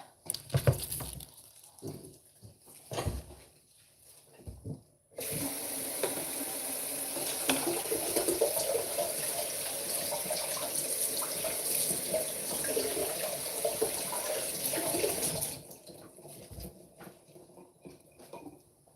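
A kitchen tap gushes into a sink while food is washed for a church luncheon. Faint clatter comes first, then a steady close rush of running water for about ten seconds before it shuts off.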